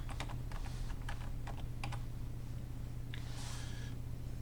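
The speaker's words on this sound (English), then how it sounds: "So let's type in." Quick bursts of keystrokes on a computer keyboard, close and light, clustered in the first two seconds with a short flurry later over a steady background hum.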